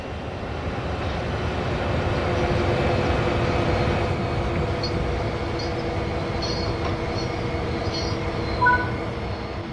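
A train rumbles steadily along in Train Sim World 3 with a continuous low roar and rattling, loud and close, with a few faint high squeals toward the end.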